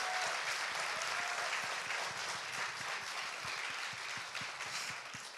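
A studio audience at a Korean talk show claps together, a steady, moderately loud wash of applause with some sharper individual claps, alone and without talk.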